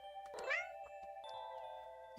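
A cat in a video game meows once, a drawn-out rising and falling cry standing alone over a quiet, faintly tonal background, followed by a brief soft sound at the end.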